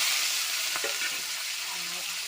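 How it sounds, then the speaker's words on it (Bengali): Onion and tomato hit hot mustard oil in a wok, producing a loud, close, continuous sizzle with faint crackles over the short span. "কড়া আর একটু সরষের তেলও দিয়ে দিয়েছি পেঁয়াজ টমেটো দিয়ে দিলাম"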